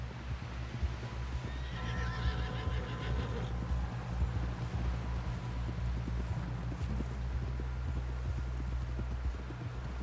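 Horse hooves clip-clop on the ground in the video game Red Dead Redemption 2, a steady walking rhythm under a low engine-like hum, with a brief whinny early on.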